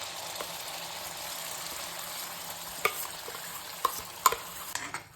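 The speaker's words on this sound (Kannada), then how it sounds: "ಪೇಸ್ಟ್ ಏನು ಬಾಣಲೆಗೆ ನಾವು ಹಾಕಿದ್ದೀವಿ ಅದೊಂದು 5 ನಿಮಿಷ ಫ್ರೈ ಮಾಡ್ಕೊಳ್ಳೋಣ" Gravy base paste for a paneer dish fries in oil in a pan, giving a soft, steady sizzle while a spoon stirs it, with a few sharper scraping clicks toward the end.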